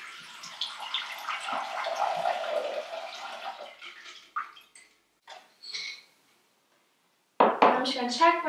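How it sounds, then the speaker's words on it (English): Water sloshes and pours off soaked microgreen seeds in a small bowl for several seconds, followed by light clinks and a louder clatter of the bowl at close range. "I'm going to go ahead and drain my seeds"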